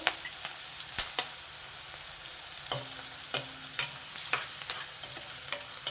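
Green chillies and turmeric frying in oil in a pan, a soft continuous sizzle broken by intermittent scraping and tapping of a stirring spoon.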